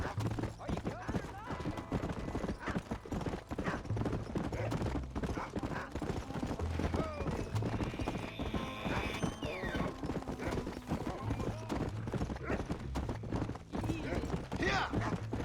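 Horse hooves galloping in the Western video game Red Dead Redemption, a continuous rhythmic clip-clop under game music, with occasional distant gunfire and voices talking over it.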